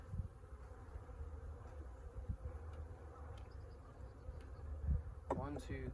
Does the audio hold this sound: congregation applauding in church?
no